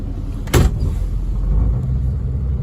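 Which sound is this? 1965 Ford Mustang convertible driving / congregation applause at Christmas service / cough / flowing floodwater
1965 Ford Mustang convertible driving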